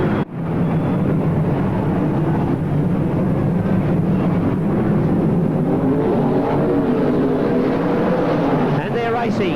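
Sprintcars roar into the first turn at Newcastle Motordrome speedway during the 1983 Australian Sprintcar Championship feature, a loud sustained engine drone with a commentator talking over it throughout.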